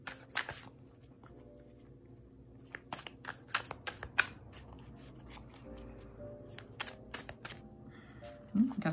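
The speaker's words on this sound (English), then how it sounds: "Spirit thinks I have all day to shuffle" A deck of cards being shuffled by hand, with repeated crisp riffling bursts and soft rustles in irregular rhythm, close and fairly quiet, with occasional speech and quiet pauses between shuffles.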